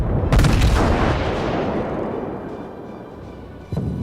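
Naval guns fire at a Cleveland cruiser in World of Warships, a loud booming salvo at the start that rumbles and decays over several seconds, then a second sharp report near the end.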